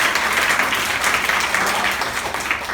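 A group of schoolchildren clapping together in a classroom at a composite school, a dense, lively patter of small hands that stays steady and fairly loud throughout.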